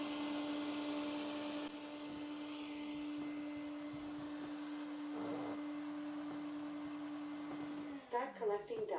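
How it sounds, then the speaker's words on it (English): A eufy E20 docking station's built-in vacuum motor empties the dustbin with a steady, loud whine that holds for about eight seconds, then cuts off into brief clattering and mechanical shuffling. "allow the built-in powerful vacuum to suck the entire, to empty the entire dustbin"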